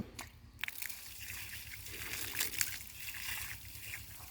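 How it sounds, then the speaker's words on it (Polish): Water flows under gravity down into a well, a continuous sloshing, trickling rush with a few splashy knocks near the start, moderately loud and without speech. "Pokażę Wam teraz, jak pod własną grawitacją ta woda płynie na samym dole."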